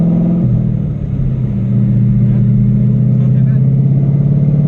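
A 2011 Ford Mustang stripped-down race car engine rumbles loud and close, holding a steady growl with a brief dip and rise in revs, while people talk over it.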